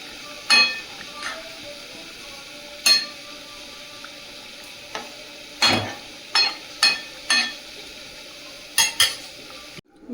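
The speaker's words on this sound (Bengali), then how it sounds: "ভেজে রাখা মাছটা এবার দিয়ে দেবো। শোল মাছ একটু সেদ্ধ হতে দেরি হয়।" Fried snakehead fish pieces going into a simmering potato and pumpkin curry in a pot, heard as scattered utensil clinks and scraping stirs against a soft sizzling, bubbling background, with no talk.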